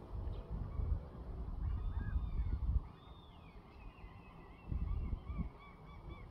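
Geese or ducks honk and call in a wooded area, a cluster of loud low honking bursts early, then quieter scattered calls and a second burst of honks toward the end, with higher chirping birds faintly behind.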